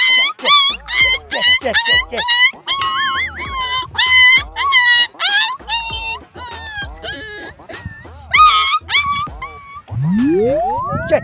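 A person imitates a dog, a string of yelps, whimpers and barking-like cries repeated rapidly, loud and close, followed by a rising whine near the end, with talk mixed in.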